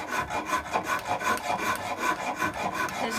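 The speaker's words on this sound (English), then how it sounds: "I've got now the Iwasaki rasp here. It's beautiful, and I'm just using that to finalise this shape here." An Iwasaki rasp shapes wood on a handmade guitar with continuous, rapid scraping strokes, close up and steady, with no speech.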